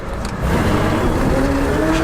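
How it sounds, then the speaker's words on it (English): A classic Ford or Dodge truck's engine drones loudly inside the cab, a low steady rumble that swells after a brief quieter moment, with no talking. "even though it is shockingly loud inside of this truck"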